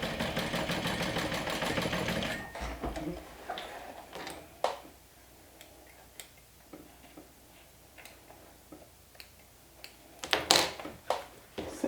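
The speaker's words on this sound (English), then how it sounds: "And I'm stitching with a 3/8 of an inch seam allowance." A sewing machine runs steadily for about two seconds while stitching darts on a crossbody bag at a 3/8-inch seam allowance. Scattered clicks, taps and handling knocks follow in near-quiet.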